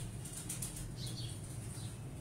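Pigeons beat their wings during a pigeon breeder's handling session, a soft, steady flutter that runs through the whole short stretch with no talking.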